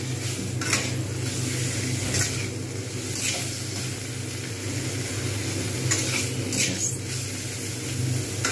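Shrimp fry over high heat in a pan with a steady, loud sizzling hiss while a utensil stirs them, adding occasional scraping clinks against the metal.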